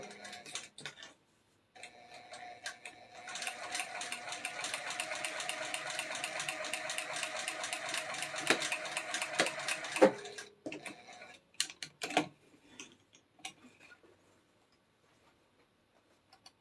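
A sewing machine stitches a seam and backstitches at the end. Fast regular clicking runs steadily for several seconds up close, then comes in short bursts as the machine reverses, before falling silent.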